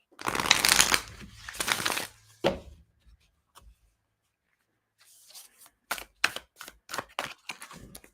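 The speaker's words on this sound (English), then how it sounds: "did not shuffle that well" A deck of oracle cards being shuffled by hand, two riffling bursts near the start, then a pause and a run of quick, crisp card flicks and taps, close and fairly quiet.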